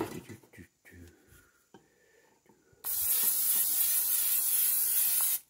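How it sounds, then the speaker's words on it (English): After some quiet handling noises and a brief voice, a steady hissing spray of canola oil from an aerosol can runs for about three seconds nearby. "This is just spray canola oil."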